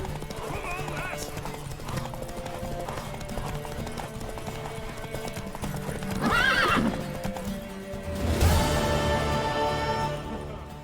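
A horse in The Witcher 3 Wild Hunt clip-clops at a steady pace and neighs loudly twice near the end, while characters talk over the hoofbeats.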